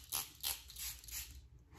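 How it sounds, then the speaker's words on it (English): Sweet Violet Grapefruit hydrating face mist sprays from a pump bottle in four quick, soft spritzes spaced roughly a third of a second apart, quiet and close. "So I'll just spray them both so you can see."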